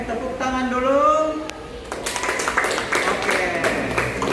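Students in a classroom clap together, a spread of dense, fairly loud applause that rises after a brief stretch of voices and continues steadily to the end.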